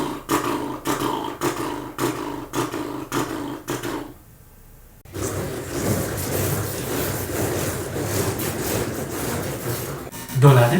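Vocal imitation of a tractor that has started and is running: fast, steady chugging pulses, a brief pause, then a sustained, rough engine-like drone that swells louder at the end.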